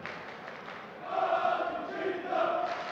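A darts crowd at the European Darts Open chants together in a large hall, with a steady murmur that swells into louder sung chanting twice, heard from a distance with no one speaking nearby.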